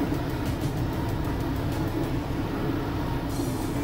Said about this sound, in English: as you can see, the train actually goes through solid rock